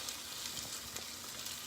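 Quiet, steady sizzling of beans in a frying pan with soft crackles and a light scrape partway through.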